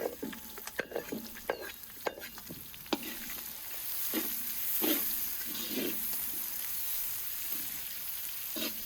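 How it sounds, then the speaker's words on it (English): Chopped onions frying in a pan of melted homemade butter for the Azerbaijani dish chikhirtma, a soft steady sizzle broken by sharp clicks and scrapes of stirring, with no voices. "I toss in the chopped onions and let them simmer in the melted butter"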